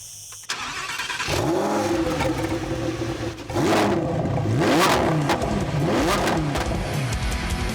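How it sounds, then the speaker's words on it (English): A 2022 Lamborghini Huracán Tecnica engine starts with a sharp crank and catch, then revs loudly in several rising and falling bursts, close up, with no talking. "If you open it up, then you can start the car."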